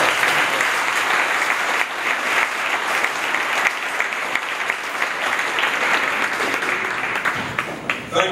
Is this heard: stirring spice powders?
no